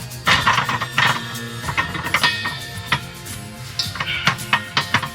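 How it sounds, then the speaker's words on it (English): A propane tank shifted around inside a converted bus's storage bay, giving off close metallic clanks, knocks and scraping squeals in an irregular series of sharp hits with no talking. "now I'm gonna move the propane tank"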